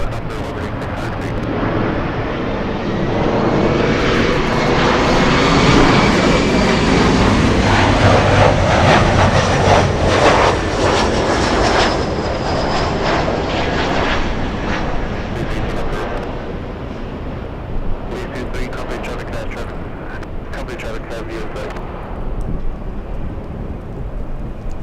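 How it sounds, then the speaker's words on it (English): A SkyWest Embraer E175 jet arriving at LAX, a loud rumbling roar that builds, peaks and gradually fades over many seconds. "Little E175 flying in from Sacramento, California."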